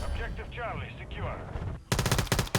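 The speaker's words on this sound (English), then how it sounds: "Here I'm getting pecked, slowly getting shot by somebody" Gunfire in Call of Duty Modern Warfare 3 Ground War, a rapid burst of automatic shots that starts abruptly near the end, loud and close, after a stretch of busy game noise with sweeping electronic tones.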